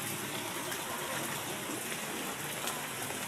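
Steady rain pours down during a typhoon at an outdoor market, a constant even hiss of water with no voices, moderately faint and unbroken throughout.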